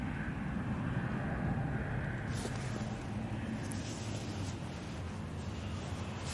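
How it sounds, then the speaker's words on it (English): An EasyJet airliner passes at Manchester Airport as a steady, loud broadband roar that fills the whole stretch, with wind rushing over the microphone and no talking. "There goes the EasyJet."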